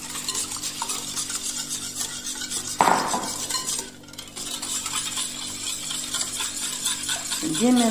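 A spoon stirs sugar into vanilla crêpe batter in a bowl, a steady close scraping and swishing that runs throughout with a brief clink partway.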